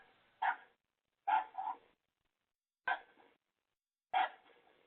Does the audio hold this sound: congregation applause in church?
no